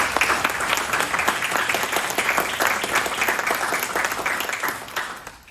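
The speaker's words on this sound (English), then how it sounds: "So let's give Tom a round of applause for this" Crowd at a community Citizen of the Year ceremony claps for the honoree: loud, dense applause from many people, sustained throughout with distinct individual claps standing out before it fades at the close.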